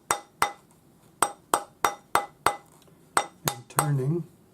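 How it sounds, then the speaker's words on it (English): A rawhide hammer rounds a forged opal ring on a steel mandrel, giving about ten sharp, ringing strikes at an uneven pace with brief pauses, then a short rumbling scrape at the end. "you just start rounding it up with your rawhide hammer"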